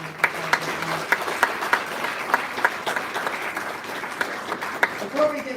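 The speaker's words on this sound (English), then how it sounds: "let's give all those Oak Leaf team members a round of applause" Audience at an annual meeting giving a round of applause for Oak Leaf team members, sustained dense clapping from a crowd, fairly loud and steady throughout, tapering near the end.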